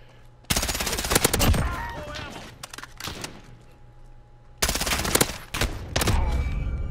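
Rapid bursts of M4A1 automatic fire using 9mm rounds in the Modern Warfare video game, with loud close-range volleys separated by short pauses and a faint voice underneath.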